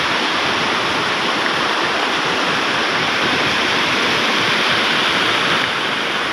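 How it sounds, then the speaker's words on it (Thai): Tat waterfall roars as a steady, dense rush of falling water, loud and close, continuous with no talk over it. "บรรยากาศน้ำตกตาด"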